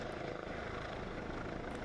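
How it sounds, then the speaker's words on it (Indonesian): Steady, loud thumping rotor of a giant Mi-6 heavy transport helicopter once flown by the Indonesian Air Force, a continuous dense drone with no voices. "Ya, sosok helikopter raksasa legendaris yang pernah dioperasikan TNI AU"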